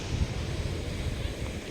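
Steady rushing water of a canal in the Kashmir valley, a broad continuous wash with low rumbling and some wind buffeting on the microphone, heard up close without voices.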